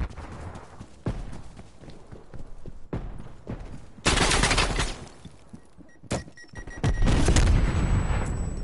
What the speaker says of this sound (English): Multiple enemy sentry turrets active.